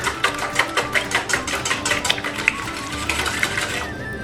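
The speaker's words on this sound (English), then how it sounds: "I'm just going to whisk those up just a little bit" Eggs are whisked in a bowl with quick, rhythmic clinking strokes against the side, a fast regular ticking pattern heard close and alone.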